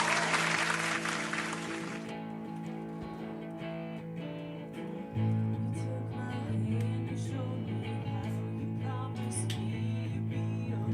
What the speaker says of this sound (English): Here's your applause.